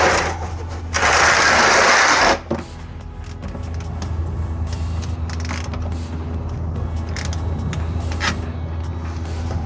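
A 13 mm socket ratchet loosens a vehicle's transmission oil pan drain plug, giving quick uneven clicks over a steady low hum after a brief loud rush of noise at the start.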